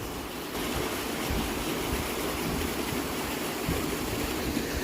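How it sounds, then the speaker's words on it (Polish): Water churns out past spinning turbine screws at a small hydro site and keeps rushing onward, a loud, continuous broadband roar with no break or voices, heard close. "No i taka woda sobie płynie dalej, dalej, dalej."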